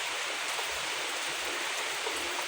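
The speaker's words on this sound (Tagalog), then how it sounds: "Maghapong ganyan yung ulan natin." Steady rain falls continuously in a broad, even hiss with no breaks, fairly soft and close, and no voices over it.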